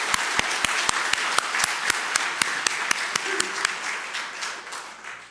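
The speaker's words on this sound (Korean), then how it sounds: "우리 박수 한번 치겠습니다" A church congregation applauds during a Sunday worship service, honoring the conductor and accompanist. Steady applause with sharp individual claps stands out at first and then thins into a softer, fading patter.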